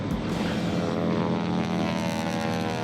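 A restored WWII Valiant V-77 propeller airplane drones steadily during its takeoff roll, the engine loud, close and unbroken with a constant buzzing hum throughout.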